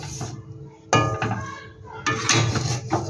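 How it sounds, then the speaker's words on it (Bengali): A spoon scrapes and clinks against a pan while a sweet semolina filling with ghee and bay leaves is stirred over low heat, with metallic knocks and scraping strokes close up. "এবার এটাকে ভালো করে আমি মিশিয়ে নেব।"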